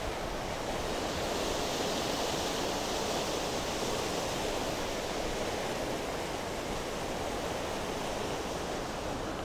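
Water rushing through a gate and dam at the head of an aqueduct on a creek feeding toward Mono Lake, a dense, steady roar with no breaks.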